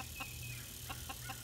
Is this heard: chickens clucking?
yes